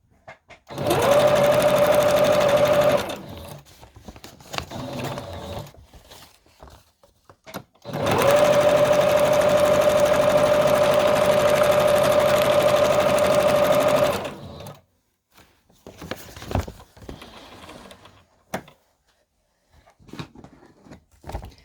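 A sewing machine stitches down pieces of a fabric collage in two long, loud bursts of steady whirring, about three and then six seconds, separated by a pause, followed by quieter handling sounds.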